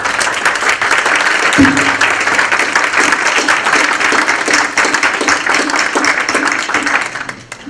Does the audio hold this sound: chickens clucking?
no